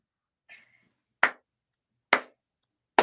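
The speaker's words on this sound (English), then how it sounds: "What is this? A slow clap?" Three sharp, spaced-out claps ring out slowly and deliberately, with long pauses of silence between each one.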